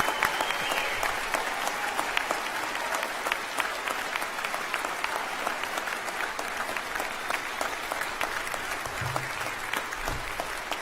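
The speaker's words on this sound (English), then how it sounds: "We have to have a round of applause for this group of students." Sustained, dense applause from a large convocation audience honoring a group of graduating PhD students at the University of New Brunswick's 2014 fall ceremony in Fredericton, steady clapping throughout with no talk over it.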